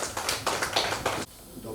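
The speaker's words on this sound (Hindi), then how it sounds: "तालियां बजाइए।" Applause at a children's literature gathering in a hall, a dense burst of clapping from an audience that swells for over a second, then cuts off abruptly, leaving a low room murmur.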